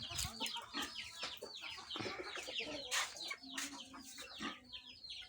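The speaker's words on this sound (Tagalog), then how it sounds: "Salamat tayo sa ating mga manok." Hens cluck and chatter continuously around a backyard coop during egg collection, a busy overlapping chorus of nearby clucks at moderate volume.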